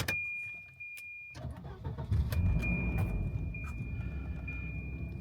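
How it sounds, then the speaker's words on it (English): A 1989 Volvo 740 Turbo sedan starts up with a warning chime and a rattle of keys, then its engine catches and settles into a steady, close idle. "Listen to the engine, then we'll go for a drive."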